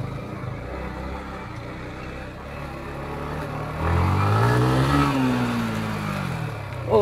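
A Yamaha MT15 motorcycle idles low, then revs up sharply as it rides into sand, the engine pitch climbing and falling over a few seconds before settling.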